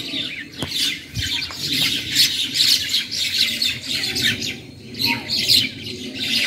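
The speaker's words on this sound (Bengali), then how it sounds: "শালিক পাখি কিচিরমিচির করছে" A flock of myna birds chirping and squawking close by outdoors at a school grounds, with a continuous tangle of overlapping harsh calls and bright tweets rising and falling throughout, and no voices.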